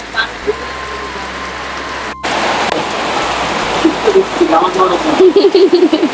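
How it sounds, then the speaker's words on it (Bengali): Heavy rain pours down in a dense, loud hiss, with a short break partway and some faint voices underneath. "কত সুন্দর বৃষ্টি হচ্ছে অনেকদিন পর এত সুন্দর বৃষ্টি"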